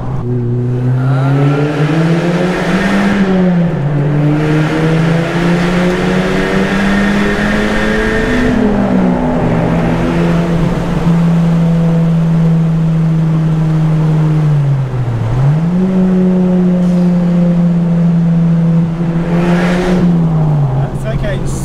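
An Audi A1 quattro, a rare model built in only 333 units, drives with its engine droning loud and steady, the pitch rising as it revs and dipping sharply at gear changes.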